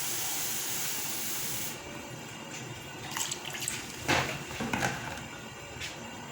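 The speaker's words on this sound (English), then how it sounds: "Now I'm going to add some water and cover it to cook." Water added to a pot of pumpkin leaves and gizzard for okra soup, a steady hiss and pour that stops, followed by a few clattering knocks as the pot is covered.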